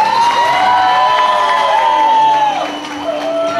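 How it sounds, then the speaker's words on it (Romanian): An audience at a high-school freshmen's ball, during a Miss and Mister contest, cheers loudly with children shouting, whoops and crowd noise. The sound is close and sustained throughout, with a few claps. "Aplauze, vă rog!"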